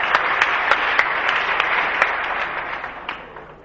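A small neighbourhood crowd claps steadily for several seconds, a dense patter of hands with a few sharper individual claps, slowly fading toward the end.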